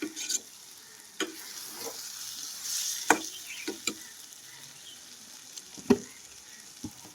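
Onions, green chilies, tomatoes and drumstick pieces fry in a pan for an egg and drumstick curry, a soft steady sizzle broken by a few sharp stirring scrapes and clinks, close and alone with no talk.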